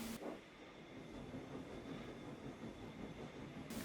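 A train shunting trucks in a siding rumbles along steadily with a low, continuous rolling drone and faint metallic hum, close by, with no voices.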